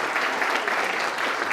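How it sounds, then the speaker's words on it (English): A congregation applauds at a Beatles-themed Shabbat service in a Ventura, California temple, giving steady, even clapping from a roomful of people that stays moderately loud without talk. "would you just give a little applause for everyone out there?"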